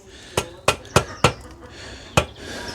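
A laid brick tapped with a trowel to level it on a bricklaying job: five sharp, close knocks, four in quick succession and one more after a pause, over quiet background.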